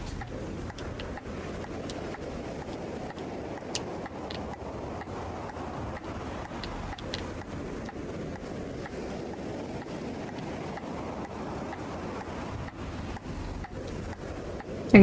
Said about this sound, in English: I can hear the waves breaking